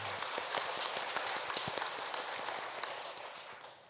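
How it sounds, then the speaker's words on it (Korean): Church congregation at an evening prayer service claps together, a short burst of scattered, fairly quiet applause that fades out within a few seconds. "감사와 영광의 박수 올려드리겠습니다"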